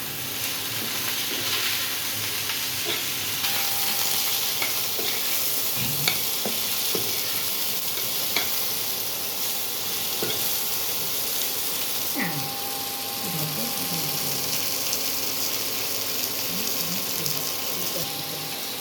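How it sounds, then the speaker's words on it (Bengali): Eggplant pieces fry in hot oil in a pan for a Bengali hilsa fish curry, a steady close sizzle with occasional scrapes and stirring clinks throughout. "আমি বেগুনটা ভেজে নিচ্ছি"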